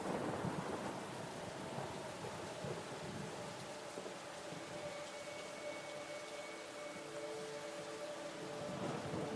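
Heavy rain pours steadily through a violent thunderstorm, with low rumbling thunder rolling beneath a dense hiss of rainfall that stays constant and close from start to finish, no voices present.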